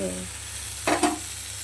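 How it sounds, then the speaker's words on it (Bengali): Eggplant fries softly in oil in a pan, with a brief clatter of utensils partway through and a short hum at the start. "এদিকে বেগুন ভাজা হচ্ছে, একটু ঢেকে দেবো।"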